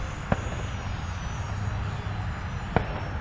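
FMS Rafale 80mm EDF RC model jet flying overhead, a steady, fairly distant whooshing ducted-fan drone, with two sharp clicks.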